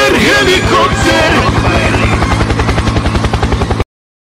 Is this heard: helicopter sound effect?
yes